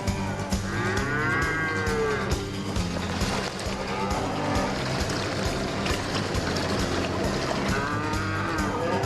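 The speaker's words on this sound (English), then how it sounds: "they lead this cow on a rope attached to a motorboat, and the others follow." A cow moos repeatedly, loud and close, as it is led on a rope behind a motorboat along a treacherous stretch of river, with other cattle following; a steady engine and water rumble runs underneath throughout.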